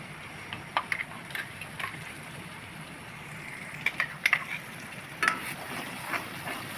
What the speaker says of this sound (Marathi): मसाला व्यवस्थित तेलामध्ये फ्राय करून घ्यायचा आहे